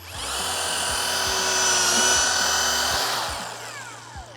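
A power drill whines steadily for several seconds, a high continuous motor tone drilling pocket holes into wood, with a few faint clicks and a knock at the end.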